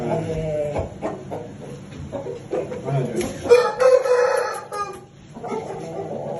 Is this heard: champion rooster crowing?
yes